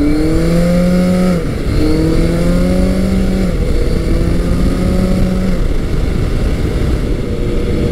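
A Yamaha FJ1200 motorcycle engine runs while riding, a loud, steady droning roar with rising tonal pitch sweeps as it accelerates through gears, then settles into a constant cruise hum, with no speech.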